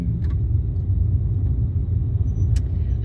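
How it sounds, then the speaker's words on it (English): A car creeps along in slow, congested traffic, its steady low engine and road rumble continuous and close, with faint brief clicks and no speech. "So just held up in traffic, moving very, very slow."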